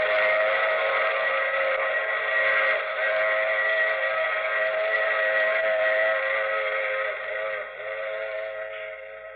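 A long, steady steam train whistle holds a sustained multi-toned blast in a radio drama sound effect, loud and continuous for several seconds before easing slightly near the end, with no talking over it.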